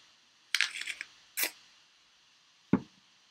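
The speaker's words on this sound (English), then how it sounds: "Excuse the following noise. I have an apple." A few crisp crunching bites into an apple close up, then a quieter crunch and a soft wet chew after a pause, with no talking.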